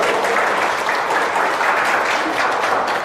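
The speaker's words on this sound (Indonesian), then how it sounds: "Tepuk tangan dong buat TR90." An audience claps loudly and continuously at a weight-management product presentation, a dense, even wash of applause lasting the whole stretch.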